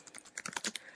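Quick, close clicking of fingers typing on a computer keyboard, a rapid burst of uneven keystrokes that grows busier midway, fairly quiet and with no talking.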